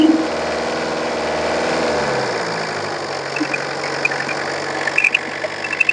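A 2016 car engine with about 110,000 km idles steadily at close range with a continuous low rumble and a faint rhythmic knock, no talking.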